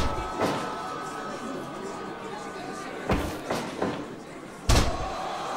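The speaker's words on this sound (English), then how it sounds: "Slamming him down with a takedown and now working the leg again." A wrestler is slammed to the mat in a takedown during a combat-sports prelim bout, heavy thuds and impacts over steady crowd noise and commentary.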